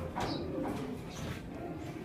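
Imported racing pigeons in a loft give soft, low cooing calls, several rolling coos close by against a quiet background.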